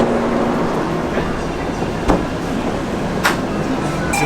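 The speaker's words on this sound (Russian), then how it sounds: "едет он довольно быстро в сравнении с обычными электричками" A Japanese sleeper train speeds along the rails, heard from inside the carriage as a loud, constant rumble with occasional sharp clunks and rattles from the wheels and couplings.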